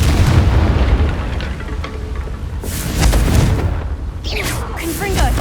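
Confringo blasting spells from Hogwarts Legacy go off as heavy booming explosions, several deep blasts rolling one into the next with crackling bursts and rumble between them.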